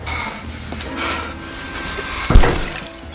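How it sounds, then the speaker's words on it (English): A front door bursts open with a sudden heavy crash and rattling impact partway through, preceded by a low dull rumble and scuffing, loud and close. "You barged in through the front door."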